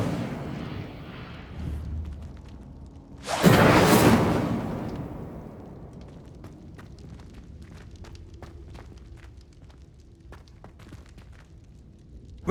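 The Incendio fire spell cast in Hogwarts Legacy: a roaring burst of flame that swells and then fades into a low crackle, followed by light footsteps and small taps.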